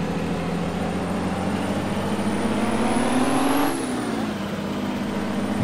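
The heavy diesel engine of an Oshkosh HEMTT A4 military truck drones steadily while driving, its pitch rising gradually then dropping as the gear changes, no voices.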